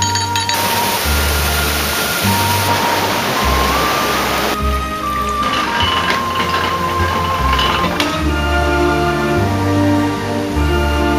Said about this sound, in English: we operate the paddles, and that lets the water into the lock